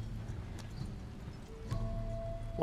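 Horse hooves clip-clopping in Red Dead Redemption 2, a soft steady rhythm of footfalls over a constant low game ambience, with a brief tonal whine near the end and no talk.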